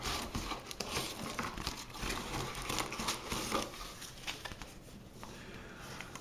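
A plastic packet of stickers packed with a PRO H5 wired gaming headset is pulled and torn open, with faint close crinkling and rustling plastic in short bursts and no voices.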